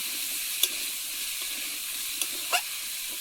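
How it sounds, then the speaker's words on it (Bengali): Vegetables fry in a pan for a paneer curry with chickpea dal, pumpkin and potato, giving a steady close sizzle with a few scraping stirs of a spatula; no speech. "সবজিটা একটু ভেজে নিচ্ছি।"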